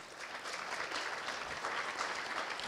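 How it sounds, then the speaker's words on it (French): An audience in a cinema gives a film director a steady round of applause at a screening and debate. The clapping is soft and even, as if heard from across the hall. "la réalisatrice du film, Monique Seman, qu'on peut applaudir aussi"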